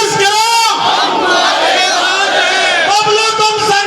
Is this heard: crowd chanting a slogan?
yes